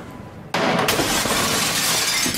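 A thrown chair smashes through a glass pane in the SOMA video game, a sudden loud crash followed by a sustained spray of shattering, tinkling shards, with no talking.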